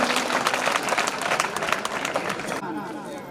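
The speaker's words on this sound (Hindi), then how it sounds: "एक बार जोरदार तालियां" An audience at a government school's annual function claps for a student's cultural performance, brisk crowded applause that stays strong and cuts off near the end, with some voices in the crowd.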